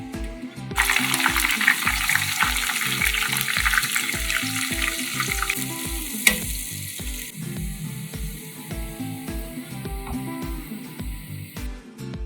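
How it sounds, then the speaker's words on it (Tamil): Eggplant and onion sizzle and fry steadily in a pan, a dense continuous crackle close up, with rhythmic stirring or scraping strokes through it and no talk. "ரொம்ப அருமையாக இந்த கத்திரிக்காயும் வெங்காயமும் பொரிஞ்சு வந்திருக்கு"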